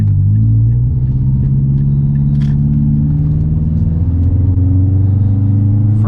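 A Mazdaspeed3 pulls hard in first gear on wet backroads, the engine note rising as a loud, close rumbling drone from inside the cabin, heard alone with no voices.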